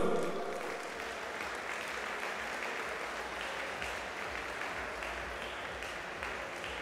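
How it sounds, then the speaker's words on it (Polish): A crowd claps loudly for kickboxers at a Poland versus Ireland kickboxing event, the applause starting strong and holding as a thick, even roar of hands for the whole stretch. "Wielkie brawa dla panów!"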